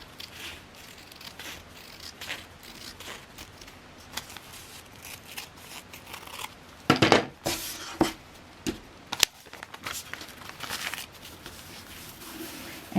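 Something is snipped off with scissors during a star point sewing step: quiet rustling and small clicks, then a cluster of louder sharp cuts and crinkles near the middle, close and without talk.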